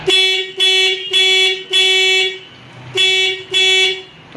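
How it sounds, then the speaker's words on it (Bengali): A loud electric rickshaw horn beeps six times in a steady rhythm, each toot a bright buzzing tone held for about half a second, very close. "আমরা এবার হর্নটা বাজাবো দেখি বাজছে কিনা"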